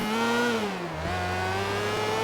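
Motorcycle engine in Grand Theft Auto IV revving steadily for a couple of seconds, a sustained close whine that dips briefly and then climbs again, with no talk over it.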